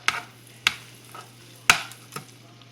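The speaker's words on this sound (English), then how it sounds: "as you add in the flour, make sure you give it a little stir" A spoon stirs flour into melted butter in a pan for gravy. A handful of distinct, sharp scrapes against the pan rise over a faint sizzle, spaced irregularly and heard close up.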